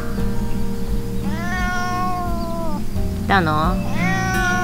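A pet cat meows repeatedly, drawn-out rising and falling calls close by, during a solo day camp outdoors, while someone talks to it softly between the meows over steady background noise.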